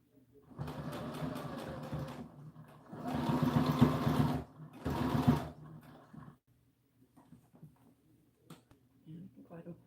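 A sewing machine stitches ribbon onto an American Girl doll dress in two close bursts of steady whirring, with a short third run and quiet handling sounds after it stops.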